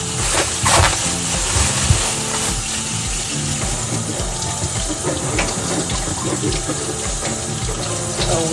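Vegetables being rinsed under a running kitchen tap, a continuous splashing gush of water into a sink with small clatters, close and steady throughout.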